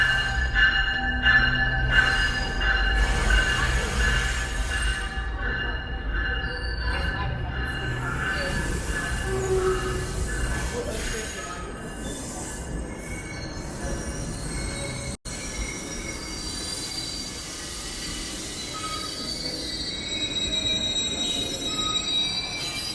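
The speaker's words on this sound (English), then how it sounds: "This is the 11:45 Lakeshore West train." A Lakeshore West commuter train rolls past at Toronto's Union Station with sustained, high-pitched wheel squeal over a steady low rumble, loud and close throughout.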